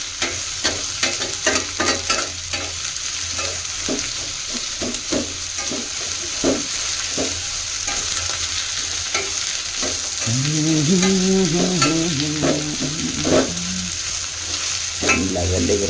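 Ingredients roast in a frying pan for a Bangalore-style bachelor tiffin, giving a steady close sizzle broken by repeated scraping strokes of a spoon, louder and busier in the second half, with no talk.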